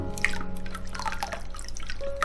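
Thin sugar syrup made from slab brown sugar poured a little at a time into water chestnut starch batter, giving a close, steady liquid trickle with small drips and splashes while the mixture is stirred.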